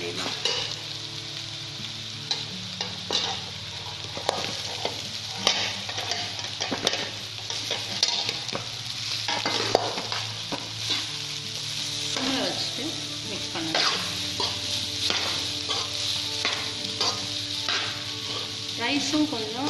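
Cooked rice being stirred and fried in a hot pan, a steady sizzle with frequent scraping and tossing clatter throughout, close and fairly loud, no talking.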